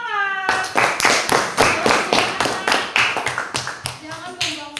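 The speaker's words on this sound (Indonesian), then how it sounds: "Ya, oke, tepuk tangan." Rhythmic group hand clapping in an Indonesian classroom-style setting, loud and close, in a steady series of short bursts with a brief pause at the start and slight voices between claps.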